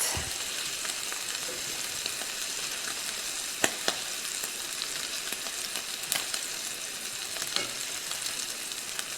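Beef stroganoff ingredients, pieces of beef tenderloin, sizzle and fry steadily in a hot pan, a continuous close crackle with occasional sharper pops and stirring clicks throughout.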